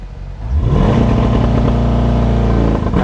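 A Chevrolet C8 Corvette in Sport Mode launches under launch control, its engine jumping from idle into a loud, sustained roar of hard acceleration heard up close, with no talking.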